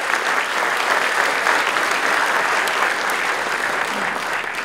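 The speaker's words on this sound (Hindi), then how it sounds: "अगर ताली मारने का दिल करता है तो जोर से बजाइए।" An audience at an IIT Roorkee school startup event claps loudly and steadily, a dense, sustained wash of applause with no break for several seconds.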